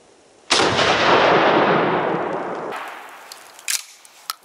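Single loud shotgun blast from an Akkar Churchill Shockwave firing a slug outdoors, a sharp boom followed by a long rolling decay of about two seconds, then a few faint clicks and handling noises.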